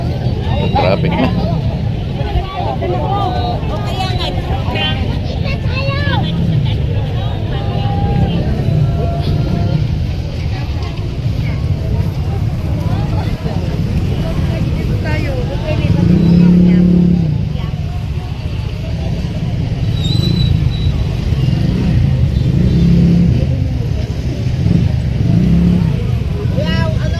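Road traffic with cars and motorcycles rumbles continuously nearby, engines droning and swelling as vehicles pass, with voices and street chatter mixed in throughout.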